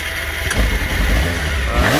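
Honda CBR600 motorcycle under restoration with its engine running close by, a loud rough mid-pitched drone with clattering and a brief rise in revs, no talk.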